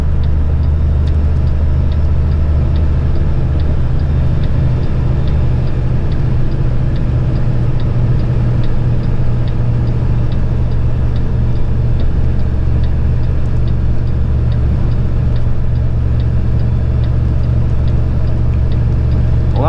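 Heavy haul Kenworth truck grinding up a steep hill in low gear, its engine a loud, steady, deep drone that holds without a break throughout, with no voices over it.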